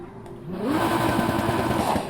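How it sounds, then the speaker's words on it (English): An engine revs up in the Need for Speed Heat racing game, its exhaust note rising in pitch and settling into a loud, steady, raspy drone, close and alone. "Exhaust notes."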